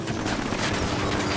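Dense gunfire rattles in Ghost Recon Wildlands, a loud, continuous volley of overlapping shots with booming low end, with a voice faintly underneath.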